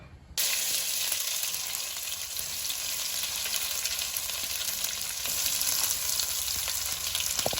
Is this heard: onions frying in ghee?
yes